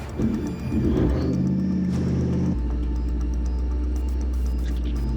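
A bogged 6x6 LC79 Landcruiser's engine rumbles loud and steady in Arnhem Land mud as its wheels spin, the low drone dropping to a heavier labouring note partway through.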